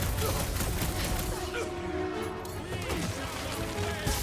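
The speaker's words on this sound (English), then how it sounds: "I hate banging up my sword on Nova Corps gear" Metallic sword blows against Nova Corps armor during a chaotic Guardians of the Galaxy video game fight, a dense, continuous clatter of crashing hits and impacts filling the whole stretch with no pause.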